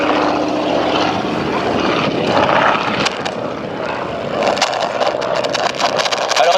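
A Morane-Saulnier 505 Storch's propeller engine drones loud and close with a steady buzzing roar, with a sharper swell of engine noise and rattling near the end.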